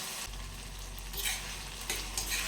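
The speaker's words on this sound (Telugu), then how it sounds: "టమాటాలు బాగా మగ్గనివ్వాలి." Tomatoes sizzle in a pan for a capsicum tomato curry: a continuous frying hiss with a couple of soft stirring scrapes, close and steady.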